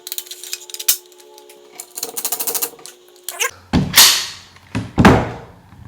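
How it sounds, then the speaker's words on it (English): Metal parts of a shotgun click and thunk into place during assembly: a few light taps early, then several sharp, close mechanical snaps in quick succession toward the end, with no talking. "It's always important that the user correctly assembles their shotgun in order for it to be successful."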